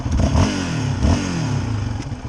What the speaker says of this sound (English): Definitely got a good growl to it, definitely. Boy, it revs so quick.